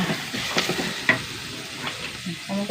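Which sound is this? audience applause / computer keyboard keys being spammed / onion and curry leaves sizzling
onion and curry leaves sizzling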